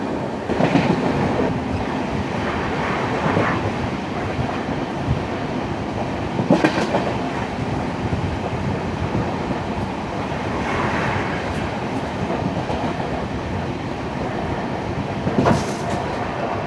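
A Kerala Sampark Kranti Express passenger train runs through Aroor halt station without stopping. The view is from on board: a loud, steady rumble of wheels on rails, with occasional clattering bursts as cars cross joints. No one talks.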